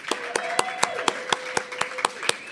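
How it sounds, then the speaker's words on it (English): Sparse applause at a cultural candidate forum in King County, Seattle: about ten crisp, evenly spaced claps close by, with a faint steady tone underneath. "Let's give them a round of applause."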